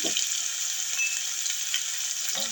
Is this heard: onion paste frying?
yes